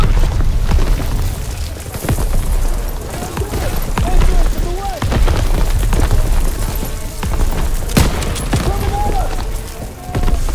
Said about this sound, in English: Throw the grenade!